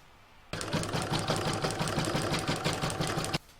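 An embroidery sewing machine stitches a Santa bag design in the hoop. It starts abruptly and runs for about three seconds with a fast, even needle rhythm, then stops just as suddenly. It sounds close and clear, with no talking.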